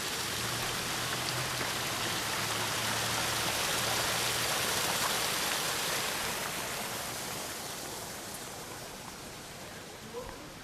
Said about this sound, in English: Here in the center they have an island with waterfalls.